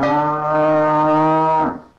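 A cow moos once, long and loud, a steady harmonic low that holds for nearly two seconds and then trails off, close and alone, in an Asterix storybook CD game.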